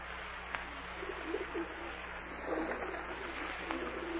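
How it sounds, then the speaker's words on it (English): Pigeons cooing softly in a park, staged as a radio drama sound effect, with low, faint repeated coos over a steady hum and no talk. "Go away, pigeons. Shoo, go on."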